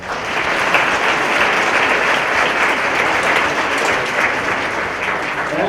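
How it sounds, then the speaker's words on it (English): Loud, dense applause fills the room at a police officer's retirement ceremony, a steady roar of many hands clapping throughout. "So for you guys, we owe you a round of applause for that."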